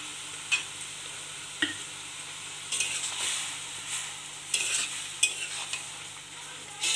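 Mustard and green chilli fry in a pan with a soft sizzle, punctuated by a few clinks and scraping stirs of a utensil against metal, near and moderately quiet, without speech.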